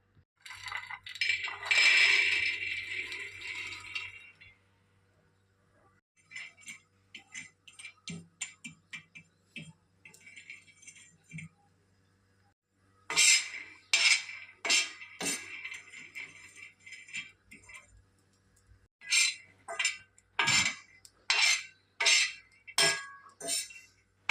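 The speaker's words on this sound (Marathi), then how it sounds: "शेंगदाणे आपण आता छान भाजून घेऊ।" Peanuts dry-roast in a pan for jaggery chikki, stirred in bursts: a loud opening rattle, a quieter stretch of light clicks, then a series of sharp rhythmic rattling scrapes of nuts against metal, close and with no voices.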